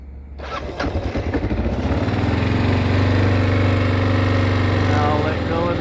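A 2001 Kawasaki KLR650 single-cylinder motorcycle cranks and fires on choke, quickly settling into a loud, steady, fast idle close by with no talk over it.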